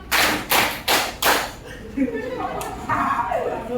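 A class claps in a counted rhythm: four sharp, loud unison claps in quick succession, followed by a couple of fainter claps as chatter and voices take over.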